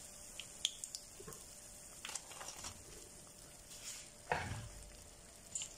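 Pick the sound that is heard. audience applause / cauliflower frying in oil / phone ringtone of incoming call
cauliflower frying in oil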